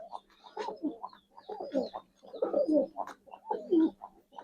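Black Budapest pigeons coo in repeated low, throaty phrases, close by, with short pauses between each rolling call.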